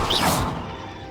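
Incendio fire spell cast in Hogwarts Legacy, a sudden loud whooshing burst that flares and quickly fades into a soft tail.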